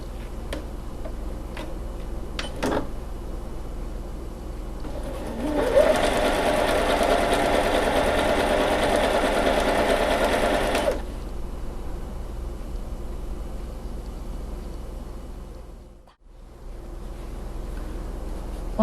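A Lion The Style 50 home sewing machine stitches a zigzag pattern: a few light clicks, then about five seconds of fast, even mechanical chatter at close range before it stops.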